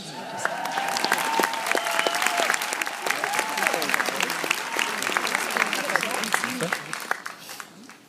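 Sustained applause at a graduation ceremony, a dense, steady wash of many hands clapping that holds strong throughout before easing slightly near the end, with faint voices mixed underneath.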